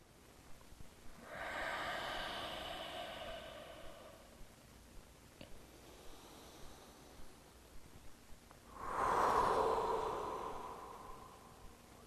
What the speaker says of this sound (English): Breathing in and out of the nose.